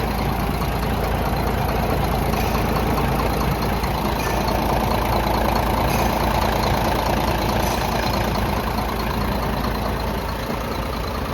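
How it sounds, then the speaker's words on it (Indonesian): Diesel engine of a 2011 Hino FM320 6x4 tractor head truck idling smoothly, a loud, steady, continuous low rumble with an even mechanical clatter, close up and unchanging throughout, with no talking. "Jadi mesinnya halus, tidak ada gejala suara bunyi yang kasar, itu tidak ada."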